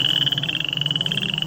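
Frogs croak in a dense, rapid pulsing chorus with a bright repeating trill. It plays loud and continuous in the narration of a children's Bible story about the plague of frogs in Egypt.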